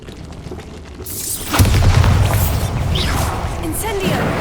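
A booming spell explosion from the Bombarda curse in Hogwarts Legacy bursts loudly after a short quiet lead-in, then rumbles with crackling debris and game effects, with a voice speaking over it.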